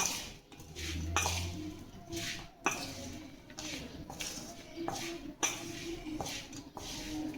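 Red chilli powder is being mixed into cut okra in a bowl, producing rhythmic scraping and shuffling strokes with soft clinks of utensil against the bowl, repeated at a steady pace and heard up close.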